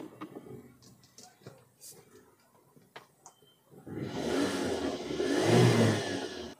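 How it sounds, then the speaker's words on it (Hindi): A car with an engine that shuts off by itself while driving cranks, fires and settles into a running idle, a loud rising whir after a few seconds of quiet clicks and handling noises. "तो गाड़ी अपनी हाफ सेल्फ में गाड़ी स्टार्ट हो गई"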